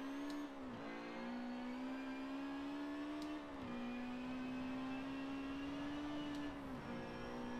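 Several Honda Civic engines hum and rev steadily together in the racing game Forza Motorsport 7, with a sustained tonal whine that dips briefly now and then as gears shift.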